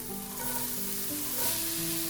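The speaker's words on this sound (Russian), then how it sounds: "Отправляем лук на разогретую сковородку" A single onion sizzles and fries in a preheated skillet over medium heat, giving a loud, continuous crackling hiss that fills the whole stretch.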